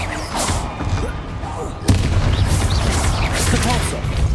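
A Bombarda explosive spell in Hogwarts Legacy goes off as one sharp, loud blast partway through, rising out of busy combat noise and carrying on as heavy rumbling.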